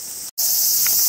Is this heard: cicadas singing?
yes